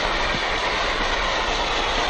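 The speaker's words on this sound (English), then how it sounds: "Hey, come on, here's the train." A train rolls past close by, a dense, steady rumble and rattle of rail cars that fills the whole stretch at an even, loud level.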